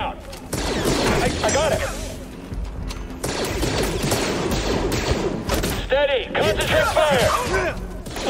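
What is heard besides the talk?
gunfire shooting at a target in Jedi: Fallen Order video game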